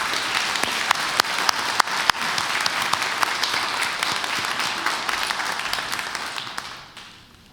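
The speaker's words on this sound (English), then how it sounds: "Let's give them a round of applause" A church congregation at a Sunday morning service applauds the choir, a dense, steady wash of clapping with a few sharp nearby claps, sustained for several seconds before tapering off at the end.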